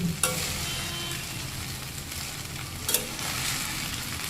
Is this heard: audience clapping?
no